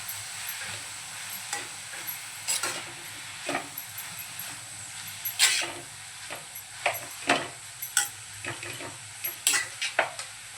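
Fresh grated coconut being stirred into a Malvani-style radish bhaji in a pan, heard as repeated scraping strokes and a soft sizzle, with irregular spatula scrapes growing busier toward the end and no voices.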